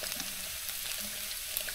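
Crispy pata, a pork knuckle, frying in hot oil, with a dense continuous hiss and sizzle dotted with faint crackling pops of splattering.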